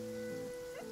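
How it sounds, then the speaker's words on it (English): Steady rain falling in a Genshin Impact game scene, a continuous soft hiss with a low musical drone beneath it and no voices. "It's raining."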